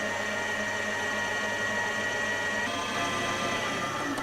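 An electric mixer runs at high speed, beating chocolate cupcake batter with a steady, unbroken whirring hum that holds at the same level throughout.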